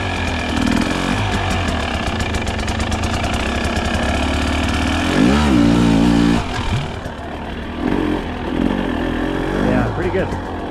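A 2024 TE300 dirt bike engine drones loud and close while being ridden, its pitch rising and falling with the throttle, and a voice talks over it.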